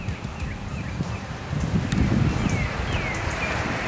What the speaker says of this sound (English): That wind really started to pick up, and Chase and Corbin weren't hearing